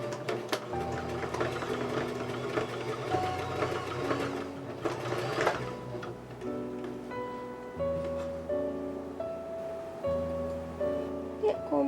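Sewing machine stitching a ballet tutu skirt with a straight stretch stitch, its motor whirring in steady bursts that stop and restart over about twelve seconds, close and fairly loud.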